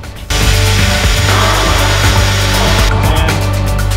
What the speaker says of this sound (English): Just gotta drill up these two spot welds right here.